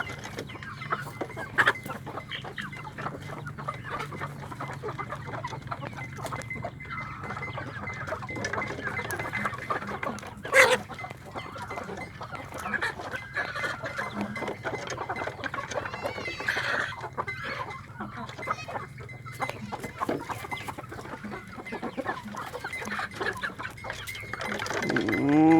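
A chicken clucking and pecking at a hand on a farm, heard as soft scattered clucks and tapping over steady background noise, with a sharper knock near the middle and louder rustling at the end.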